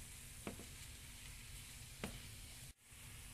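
Minced garlic sizzling in a Cuban sofrito for imperial rice gives a steady, close frying hiss, with a couple of soft spoon stirs and a brief dip near the end.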